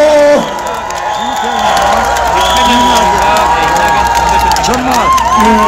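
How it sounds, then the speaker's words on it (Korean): A rally crowd at an outdoor election campaign event in Seoul cheers and applauds party leaders, loud and continuous, with voices, whoops and a public address voice running through the din. "큰 박수로 맞이해 주십시오"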